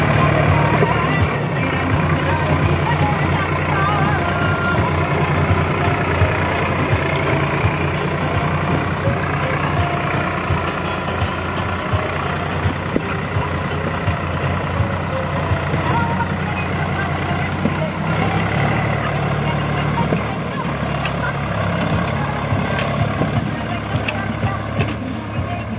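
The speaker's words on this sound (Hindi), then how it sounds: "काफी अच्छा दम लगा रहे दोनों ट्रैक्टर" Heavy diesel engines of two tractors, one a Mahindra 265 DI, drone steadily under pulling strain, a deep continuous rumble with a brief dip near the end, loud and close throughout.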